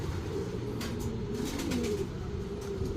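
Young Koopman racing pigeons coo softly and steadily on a rooftop loft, low murmuring calls repeating close by under a constant background hum.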